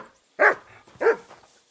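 A dog in the video game Kingdom Come: Deliverance 2 gives two close, clear barks about half a second apart, alone against a quiet background.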